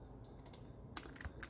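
Keys tap on a computer keyboard as the Enter key is pressed, giving a few faint, quick clicks in a quiet room.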